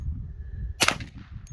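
A single sharp report from a suppressed Hi-Point pistol, one loud broadband burst at mid-clip over a low rumbling background, followed by a short fading tail.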